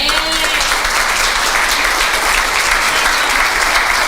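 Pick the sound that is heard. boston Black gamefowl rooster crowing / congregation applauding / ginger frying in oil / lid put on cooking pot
congregation applauding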